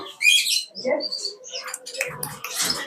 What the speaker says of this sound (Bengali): এটা ব্লু ভাই ব্লু মিউটিশনের পাখি